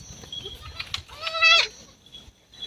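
A goat lets out a single clear, nasal bleat close by, preceded by a few quieter rustles and sounds.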